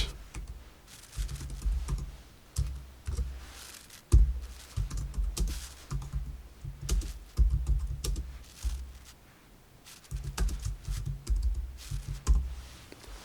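Code is typed into PyCharm on a computer keyboard in quick bursts of close, clicky keystrokes separated by short pauses.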